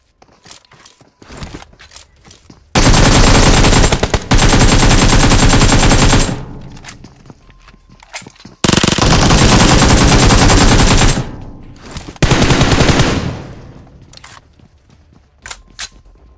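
Rapid automatic gunfire rattles in long, loud bursts during a mobile battle royale shooter match, with a few quieter single shots and pauses between three sustained volleys.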